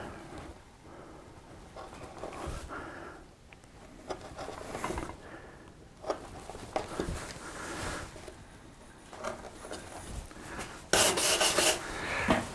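Wood carving on a breadboard edge: a chisel scrapes and rubs out a chip in repeated soft, close strokes, quiet and irregular, with a sharper louder scrape near the end.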